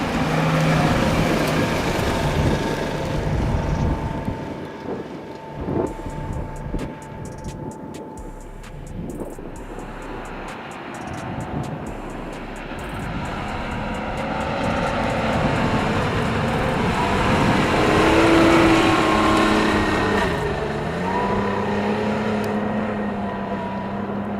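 A white Nissan Pathfinder crawls off-road with ESP off and tires at 13 psi, its engine droning and rumbling steadily at close range, rising and falling under load over rough terrain with no voices.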